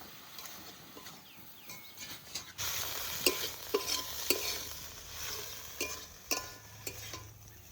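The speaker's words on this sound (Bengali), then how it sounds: "শাক ভাজা হয়ে গেছে এবার নামিয়ে নেবো" Radish greens fry in a pan, first a quieter stretch and then louder steady sizzling with sharp stirring scrapes and clatters throughout, heard close with no talking.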